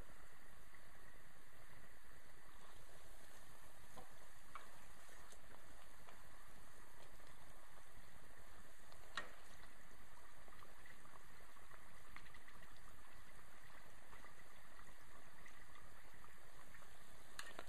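Beignets frying in hot oil, a steady low hiss and bubbling sizzle running continuously and fairly quietly with no other sounds over it.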